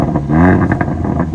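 A car fitted with a freshly tuned aftermarket exhaust revs loudly and close by, its engine note rising and falling in a short burst of throaty roar with no talk over it.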